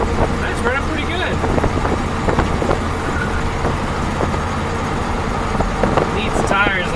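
A 1957 Oldsmobile Rocket 88 engine runs steadily while the car drives, a continuous rumble blended with road and cabin noise, with people talking over it.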